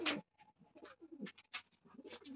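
Pigeons in a loft, with a newly acquired pair among the birds, give soft repeated coos and throaty calls close by, fairly quiet, with short gaps between the calls.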